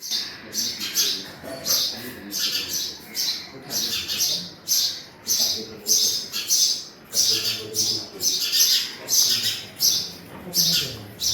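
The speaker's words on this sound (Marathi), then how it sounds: "घरामध्ये स्वागत झालं ते पक्ष्यांच्या गोड किलबिलाटाने." Small birds nesting behind picture frames inside an old tiled-roof Konkan house in Ratnagiri chirp and twitter in quick repeated bursts, close and fairly loud, filling the room with busy overlapping calls.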